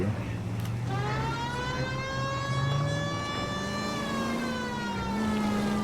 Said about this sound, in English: Did you hear the siren?